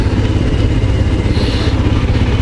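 A Royal Enfield Scram 411 motorcycle ridden along roads near Schirmeck, with a loud, steady engine drone and wind rush close up and no talk.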